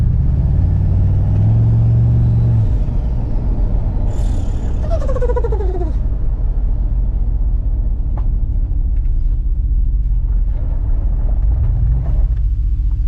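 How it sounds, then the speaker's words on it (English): Turbocharged budget truck's engine rumbles loudly and steadily through a highway burnout attempt, a heavy continuous drone with a brief high squeal of tire spin in the middle and a rise toward the end. "we're getting close to being able to actually use this for highway burnouts"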